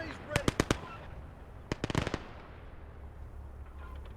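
Mortar and artillery fire crackle in a WWII video game battle. Two clusters of sharp, rapid cracks and pops sound at a moderate distance, separated by a quieter stretch of low rumble.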